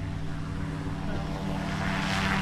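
A propeller plane engine in the video game Greyhill Incident drones steadily and loudly, a constant low throbbing hum with a buzzing harmonic layer throughout, with speech faintly mixed in.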